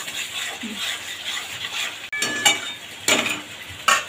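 Chilli spice paste for an egg and potato curry being sautéed in a pan, with a soft steady sizzle and several sharp scraping stirs of a spoon against the pan, close by.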